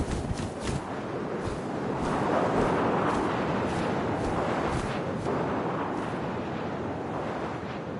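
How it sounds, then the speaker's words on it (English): Steady wind blowing in the What Remains of Edith Finch video game, a continuous broadband rush that swells slightly and holds fairly loud for the whole stretch, with no voices. "First, all I heard was the wind."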